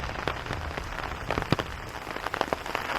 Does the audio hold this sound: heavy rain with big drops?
yes